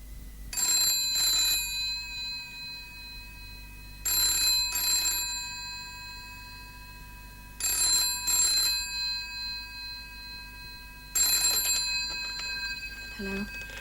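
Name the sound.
telephone ringing while calling wife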